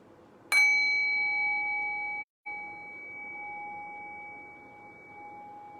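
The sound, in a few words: meditation bell rung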